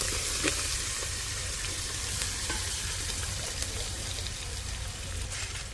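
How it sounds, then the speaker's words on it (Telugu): Onions frying in a pan with curry leaves, a dense continuous sizzle with crackly spits and occasional stirring, close and steady throughout. "సో ఆనియన్స్ అనేవి మనకి బాగా వేగాయి"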